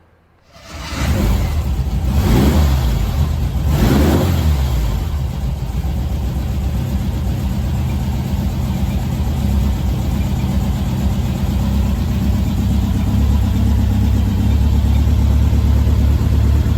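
A 1958 Tonella Azeitona's engine starts and revs, climbing through two quick surges before settling into a steady loud drone, close up with no talk.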